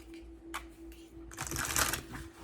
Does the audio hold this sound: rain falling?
no